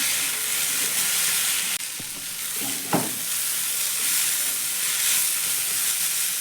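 Potato and grated carrot with spices fry in a pan, giving a steady sizzle and hiss throughout, with a few brief stirring scrapes partway through.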